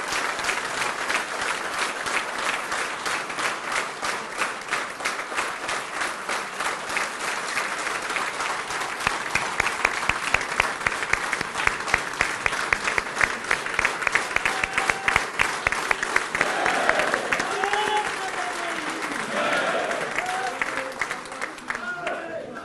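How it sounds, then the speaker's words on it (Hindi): An audience at a political gathering in India claps loudly and steadily for the national party president, a dense sustained applause with crowd noise underneath and brief speech near the end. "एक ऐसी ताली बजनी चाहिए हमारे राष्ट्रीय"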